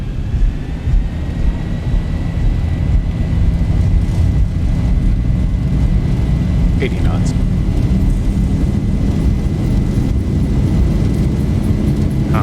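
Boeing 737 jet engines spool at takeoff thrust in the X-Plane 11 flight simulator, a Zibo 737 climbing out of San Francisco. The roar is loud, continuous and heavy in the low end, with a brief spoken call over it.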